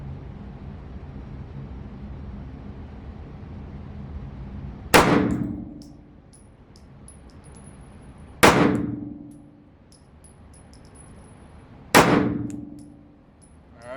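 A Sig 365XL pistol fires three shots at 7 yards using iron sights, spaced a few seconds apart. Each loud sharp crack is followed by a bright metallic ringing that fades away.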